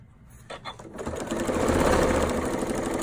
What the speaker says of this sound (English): We're going to stick it underneath here and sew 1/4 inch seam.